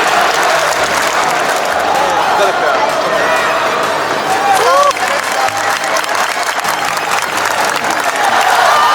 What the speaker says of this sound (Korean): 시원 선수에게 경의 박수를 부탁드립니다